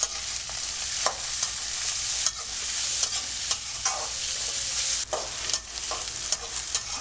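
Onions sizzling steadily in hot oil for mustard chicken, with a spoon stirring and scraping the pan in irregular knocks throughout, close and fairly loud.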